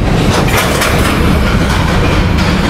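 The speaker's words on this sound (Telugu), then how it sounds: "గూడ్స్ ట్రైన్ వెళ్ళడానికి సిద్ధంగా ఉంది" A goods train rumbles steadily and loudly nearby, with a continuous dense roar of rolling wagons and no break for the whole stretch.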